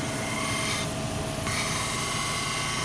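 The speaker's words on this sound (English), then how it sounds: "Grind it at a mellow rate, you know, don't take forever, but don't do any hog cut grinding on it" A D16Y7 camshaft is ground on a grinder with grinding fluid, making a continuous loud, rough rasping hiss that holds steady and close with only a slight dip partway through.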